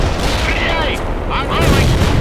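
Grenade blast in the video game World in Conflict, a loud burst buried in a thick, constant roar of battle noise with rumbling low end over a couple of seconds.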